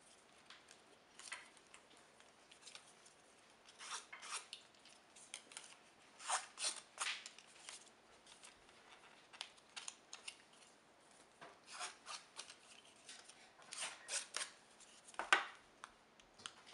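Scissors snipping angled slits into paper for a folded tropical hut craft, a run of short crisp cuts in bursts, close and fairly quiet, with no talking.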